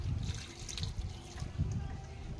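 Water poured onto the soil of a freshly repotted mulberry plant, a soft, uneven splashing and trickling at close range, fairly quiet, with muffled low rustling underneath.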